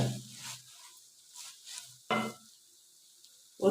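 Cabbage tossed into a pan of spiced chicken filling for rolls and samosas, giving bursts of sizzling and scraping stirs, with a sharp clatter midway and another at the end.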